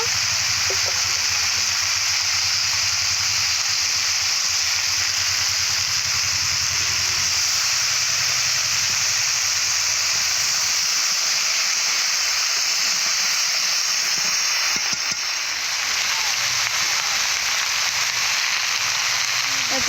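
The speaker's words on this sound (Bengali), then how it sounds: "সজনা করা আলু কুমড়ো বেগুন সমস্ত সব রকম সবজি এইভাবে ভালো করে কষে নেব" Mixed vegetables, drumstick, potato, pumpkin and eggplant, frying in a pan, giving a steady loud hiss and sizzle that runs without pause throughout.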